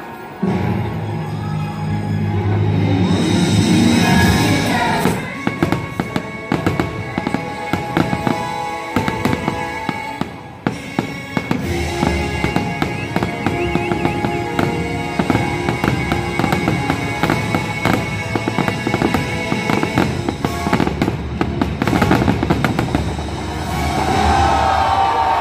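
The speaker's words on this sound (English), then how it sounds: "there's nothing quite like a good fireworks show to get the day finished." A Disneyland fireworks show closes the day with a rapid string of loud booms and crackling bursts over a murmuring crowd that cheers faintly between blasts.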